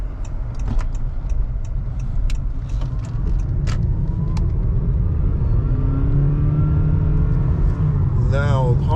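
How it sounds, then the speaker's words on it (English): A white 2019 Honda Clarity plug-in hybrid Touring on new tires rolls along on a test drive, with steady low road and engine rumble heard from inside the cabin. Someone talks over it. "Now Honda Clarity, we're test driving."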